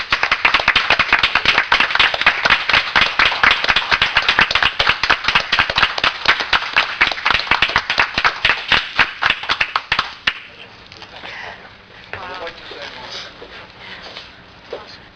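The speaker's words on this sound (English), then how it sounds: "Let's give him a round of applause." A room of people in Pemberton Township claps enthusiastically, dense rapid hand claps for about ten seconds that then drop off abruptly, leaving a few scattered claps and quiet murmuring.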